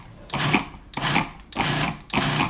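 A food processor blends walnut pesto with butter in four short motorized pulses, each a whirring burst of a second or less separated by brief pauses, close and moderately loud.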